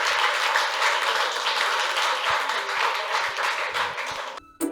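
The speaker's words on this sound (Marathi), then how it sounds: "टाळ्या एकदा." An audience at a college campus event claps in a sustained, dense round of applause lasting several seconds, then cuts off abruptly at the end.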